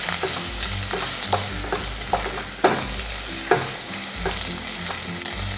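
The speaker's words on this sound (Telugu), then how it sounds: "పచ్చిమిర్చి కొంచెం వేగిన తర్వాత 2 రెమ్మలు కరివేపాకు వేసుకుందాము." Green chillies and curry leaves frying in hot oil in a pan, a steady close sizzle broken by regular scrapes and taps of a stirring spoon, with no one talking.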